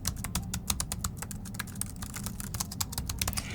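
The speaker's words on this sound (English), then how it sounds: "It's very comfortable to type on. Can you hear that?" Rapid, steady clicking of keys being typed on a 2015 13-inch MacBook Pro laptop keyboard, close and crisp, with no voices.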